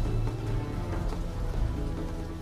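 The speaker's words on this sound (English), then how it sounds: "Stupid rain. Always comes when least expected." Heavy rain pours down in a steady, loud, dense hiss that fills the whole moment without pause or voices.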